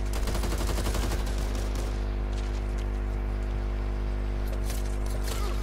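Rapid gunfire in the zombie shooter Back 4 Blood, with dense bursts of shots rattling over a constant low game hum, loud and close, tapering into scattered shots.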